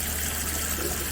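Tap water runs while a stemless wine tumbler is rinsed and washed with Dawn dish soap, a continuous close hiss of flowing water.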